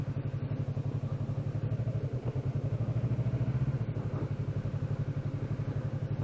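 A Yamaha R3 300cc motorcycle hums along while being ridden, its small engine putting out a steady, pulsing drone heard close up with little change in pitch.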